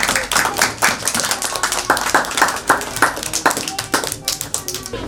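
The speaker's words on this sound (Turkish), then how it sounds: "Alkışlayın bakın kendinize." Children gathered at a container-city school visit in Nurdağı clap for themselves, sharp, uneven individual hand claps in quick bursts from a modest group, with some voices mixed in.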